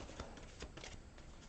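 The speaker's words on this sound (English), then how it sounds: "One more shuffle." Law of Attraction oracle cards riffled in a quick shuffle, a brisk papery flutter of crisp card snaps, close and alone without speech.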